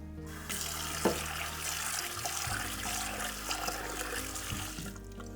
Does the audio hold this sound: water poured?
yes